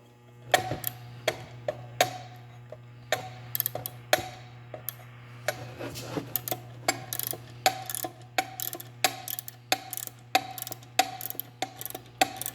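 Ratchet wrench clicking as it tightens parts during an equipment setup and assembly, a near, fairly loud run of irregular ratcheting bursts and taps with short pauses between strokes.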